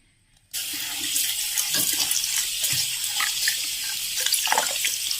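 Rice is washed in water before cooking: a tap starts after a brief silence and water rushes steadily into a sink or vessel, close and loud.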